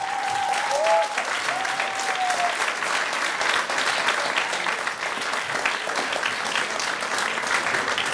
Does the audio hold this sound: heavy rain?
no